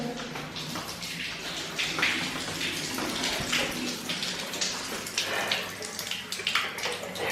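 Steady running water from a borehole connection filling a tank, a continuous broadband rush with small splashy fluctuations throughout.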